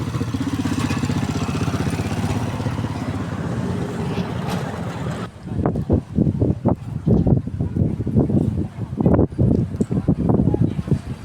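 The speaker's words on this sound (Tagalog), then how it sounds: "ang lakas ng hangin" Strong wind at the seaside in Macau buffets the microphone in heavy, gusting rumbles, with a broad roar of outdoor noise underneath.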